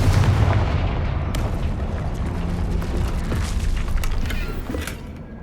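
Confringo blasting spells in the Hogwarts Legacy video game explode in a dense, booming barrage, with rumbling blasts and sharp cracks layered over one another throughout, fading slightly at the end.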